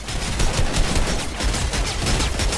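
An automated turret in Fortnite fires a loud, rapid stream of shots, a dense rattling burst that continues without a break and is heard alone.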